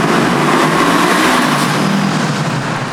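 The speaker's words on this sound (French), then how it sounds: "Avec son moteur plein d'enthousiasme et sa sonorité valorisante lors des montées en régime" Brixton Crossfire 500 motorcycle engine revving loudly and close, a dense continuous roar that holds steady over the whole short stretch with no voices over it.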